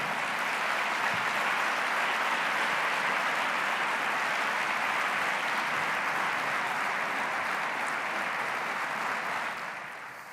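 At the RSA 2023 annual event, an audience applauds performers coming on stage, a broad even wash of clapping heard from a distance that holds steady and then thins near the end.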